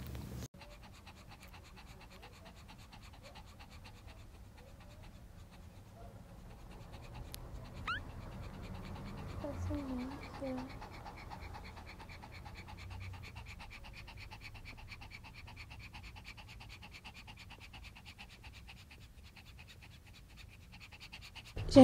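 A pregnant Shih Tzu, just after giving birth, pants in a fast, steady, unbroken rhythm for about twenty seconds, close and quiet, with light scratching or movement in the middle.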